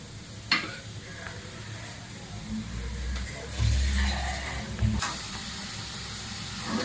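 Masala sizzling and frying in hot oil for palak paneer, a steady soft crackle and hiss with occasional stirring clatter of a spoon in the pan, while a voice talks over it.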